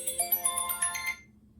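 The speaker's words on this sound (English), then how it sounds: "Don't worry about that alarm." An electronic alarm plays a quick, bright chiming melody for about a second, then stops.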